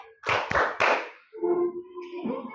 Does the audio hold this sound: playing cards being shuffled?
no